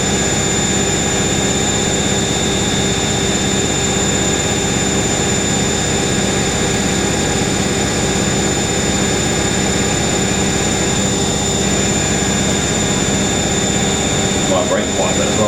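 An Indesit IWC71452 washing machine spins at 1000 RPM on a 90°C whites programme, giving a loud, steady high-speed drone with a constant whine throughout. A voice talks over it.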